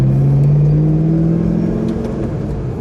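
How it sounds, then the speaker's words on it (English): Supercharger whine from a 2006 Ford GT accelerating, a steady rising mechanical whine over a deep engine drone, loud and close from inside the car, with no talking. "the supercharger whines so wonderful"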